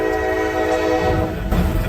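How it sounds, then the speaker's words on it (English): A speeding train barrels through a road crossing, a loud continuous roar with a sustained horn blast held throughout, close and overpowering. "he watches with dread as a speeding train barrels through the crossing"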